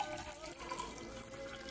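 Water poured from a vessel into a glass, a steady close trickle running for under two seconds with no talk over it.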